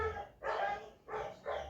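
Three close barks from a dog in Harare sound in a short, quick series, the last two nearly back to back, with no voices alongside.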